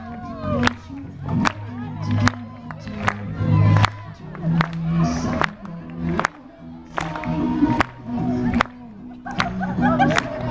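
Scouts at a campfire clap their hands in bursts of sharp claps, mixed with crowd voices, shouts and cheering.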